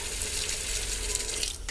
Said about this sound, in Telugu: అల్లం ఇలాగా నీళ్ళల్లో వేసి కాసేపు నానబెట్టుకుంటే పైన ఉన్న మట్టంతో వచ్చేస్తుంది